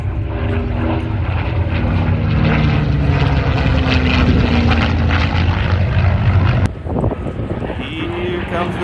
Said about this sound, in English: Here comes the Mustang.